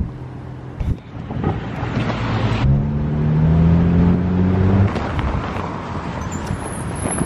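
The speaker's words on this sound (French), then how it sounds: "il y a un bus qui arrive très bien" A city bus pulls in close by, its engine droning and rising in a steady low rumble with a sustained tonal whine in the middle, then easing off as traffic noise continues.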